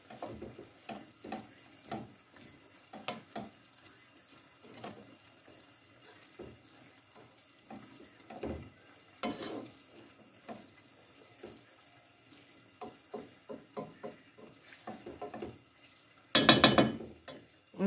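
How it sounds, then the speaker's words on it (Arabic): Intermittent scraping and clatter of a utensil stirring a Chinese-style noodle mixture with vegetables and tuna in a pan, soft scrapes in irregular rhythm, closing with a louder clunk near the end. "غادي نحرك الكل"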